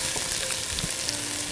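Turmeric and hot chili frying in oil as they are stirred, a close continuous sizzle with a few soft scraping stirs.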